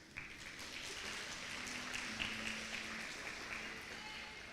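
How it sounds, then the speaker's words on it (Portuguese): Congregation applauding during an evening church worship service, a faint, steady wash of distant clapping lasting a few seconds, with a sustained tonal hum from instruments or the sound system underneath. "Aplauda a Deus pela vida dele, em nome de Jesus."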